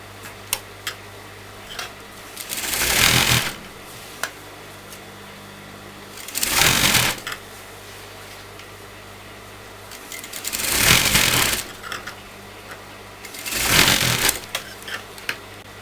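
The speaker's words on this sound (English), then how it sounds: "place it flat, and I'm going to sew it like this" A sewing machine stitches a sleeve onto the shoulder of a kurta in four loud, rapid whirring bursts of about a second each, separated by quiet pauses with light clicks and handling.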